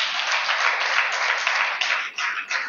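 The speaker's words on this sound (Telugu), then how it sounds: "వెరీ గుడ్, క్లాప్స్ కొట్టి గట్టిగా." Loud, steady clapping from a church audience at a field training programme, sustained dense applause with a slight dip near the end.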